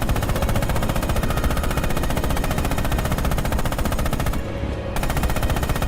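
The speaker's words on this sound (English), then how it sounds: "Open fire with the coax MG on those targets." A tank's coaxial machine gun fires in Red Orchestra 2: Heroes of Stalingrad, a loud, continuous stream of rapid shots that runs unbroken for about six seconds with no talking.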